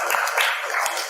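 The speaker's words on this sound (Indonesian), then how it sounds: "Tepuk tangan semuanya." Applause from a crowd gathered at a family iftar get-together, a dense steady patter of many hands clapping at once, loud and continuous for about a second.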